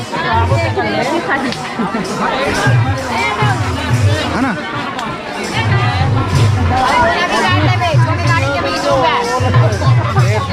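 A dense crowd at a village rath yatra chariot festival fills the air with constant chatter and babble, mixed with nearby voices talking over the continuous loud hubbub.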